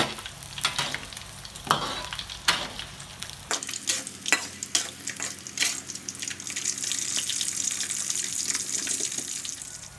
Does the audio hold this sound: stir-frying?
yes